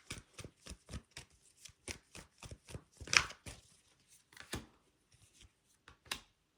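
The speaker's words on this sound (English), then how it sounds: "I want to pull a couple more clarifying cards on that." Tarot cards being shuffled and pulled, a run of crisp, close riffling flicks and slaps at an even rhythm, then sparser taps and a slide near the end.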